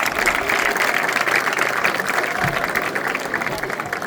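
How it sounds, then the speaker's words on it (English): Students and staff at a school general assembly clap together, a busy, moderately loud patter of many hands, continuous throughout with some room noise. "Clap for that."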